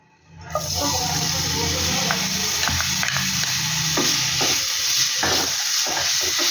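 Grated beetroot fries in hot oil in a pan, a steady loud sizzle with scattered stirring clicks and scrapes, close up.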